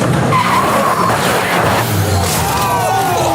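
A 1,000hp Halo Warthog replica does a burnout at Tire Slayer Studios, its tires skidding and squealing in a loud, continuous roar with the engine running underneath for the whole stretch.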